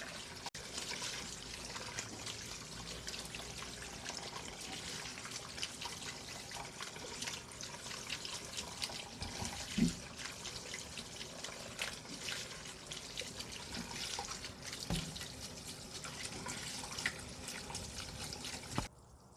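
Cold tap water running steadily into a sink while noodles are rinsed and washed by hand for Korean janchi guksu, a soft continuous splashing trickle with occasional small knocks, no talking.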